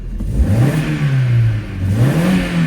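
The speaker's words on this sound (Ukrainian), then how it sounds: "Машина газується, троїння немає." An Opel Astra H petrol engine, recently refitted with an older ignition coil, revs up and falls back twice in close succession, a clear mid-pitched engine sound without any misfire stumble, with nobody talking.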